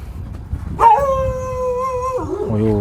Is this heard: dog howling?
yes